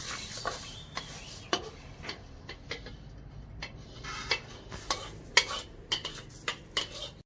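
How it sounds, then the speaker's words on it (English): Fennel or cumin spices are stir-fried dry in a pan, with a spatula scraping and tapping in an irregular rhythm over a faint low sizzle, close and fairly quiet. "I will stir fry another, maybe my fennel or my cumin"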